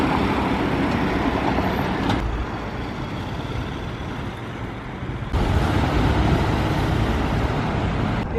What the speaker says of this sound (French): Il y a énormément de bus qui passent